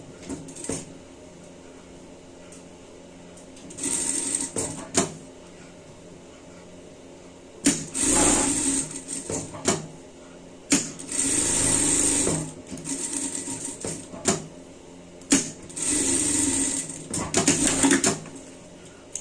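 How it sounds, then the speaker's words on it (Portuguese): A sewing machine stitching fabric for a Christmas pet collar runs in several loud mechanical bursts of rapid needle clatter, separated by quieter pauses with faint handling sounds. "vamos passar uma costura por tudo"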